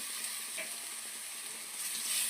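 Ginger garlic paste sizzles and fries steadily in a hot pan for a chicken curry, a continuous close crackling hiss with faint stirring and no talk.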